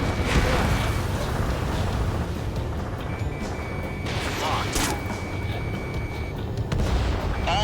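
Missile explosions and anti-air fire in the Ace Combat 7 video game, a dense, continuous roar of blasts and booms with sharp bursts throughout, mixed under game radio voices.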